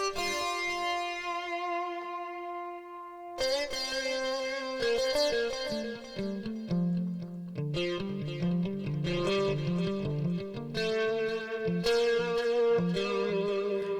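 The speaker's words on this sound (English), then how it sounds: "Now, distortion guitar." A Ketron Event keyboard plays a layered distortion guitar patch, a sustained chord followed by a run of picked, overdriven notes and chords that ring on steadily, with no voices present.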